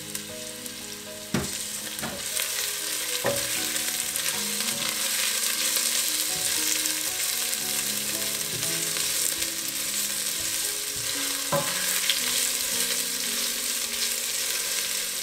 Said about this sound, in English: So we're going to fry the onions till they turn golden brown.